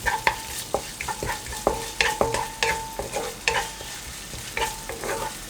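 Chili and garlic stir-fry in a hot pan for spicy glass noodles with shrimp, with a spatula scraping and knocking rhythmically over a soft sizzle, close and without speech.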